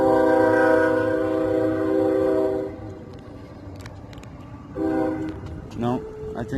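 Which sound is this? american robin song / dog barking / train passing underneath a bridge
train passing underneath a bridge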